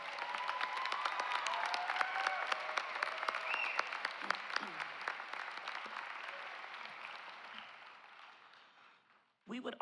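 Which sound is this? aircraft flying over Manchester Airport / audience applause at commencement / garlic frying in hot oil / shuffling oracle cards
audience applause at commencement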